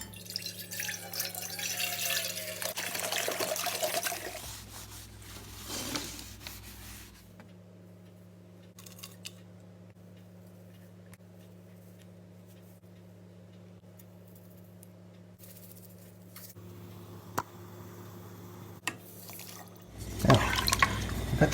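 Liquid and brine ingredients for a turkey pour and splash into a pot, with brief trickles and drips standing out over a steady low hum and quiet stretches before more clattering at the end.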